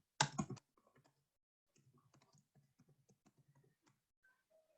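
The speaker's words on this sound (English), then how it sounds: "Now here I just need to type my question." Keys clatter on a computer keyboard as a question is typed, a sharp initial clunk followed by sparse, light, irregular taps in a quiet room.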